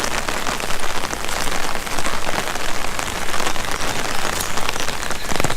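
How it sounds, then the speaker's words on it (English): Steady heavy rain pours onto surfaces outdoors during a June flood, a dense, close, continuous hiss and patter with no pauses, loud and unbroken throughout. "Thank goodness the rain has let up some."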